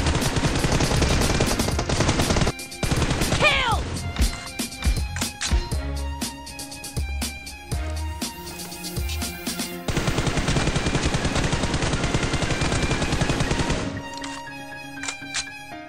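Rapid bursts of tap-fired gunfire from the battle royale game BGMI, loud and dense, with repeated short shot clusters, brief pauses, and a sustained stretch of continuous shooting near the end.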